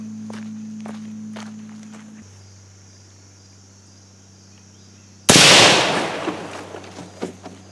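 A suppressed 5.56 rifle fires a single sharp, loud crack that cuts through quiet outdoor ambience with insect chirping, followed by a decaying tail and a few faint knocks.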